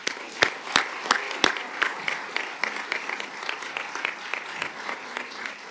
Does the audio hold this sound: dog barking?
no